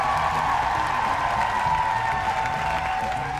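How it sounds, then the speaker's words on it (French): Audience applause at a school presentation on social media influencers, a steady dense patter of clapping hands held at an even moderate level throughout, with no voice over it. "Donnons une bonne quantité de likes ainsi qu'une bonne main d'applaudissements pour nos influenceurs d'aujourd'hui."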